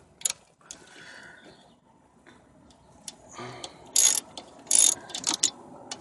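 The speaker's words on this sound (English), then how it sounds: "I'm just gonna tighten up those bolts back, and that should be it." A ratchet tightens the front brake bolts on a PT Cruiser GT Turbo, producing close, bursty runs of rapid metallic clicking between short pauses.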